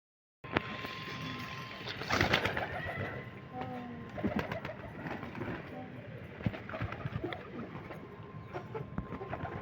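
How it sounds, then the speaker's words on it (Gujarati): Pigeons coo softly and repeatedly nearby while pecking at scattered feed, with wing flutters and light scuffling and a person talking over them. "હવે આપણા કબૂતરે ખાઈ પી લીધું હે"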